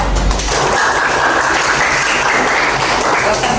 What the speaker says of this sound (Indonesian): kasih tepuk tangan untuk Bapak.